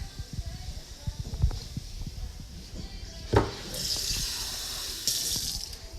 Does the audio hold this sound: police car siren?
no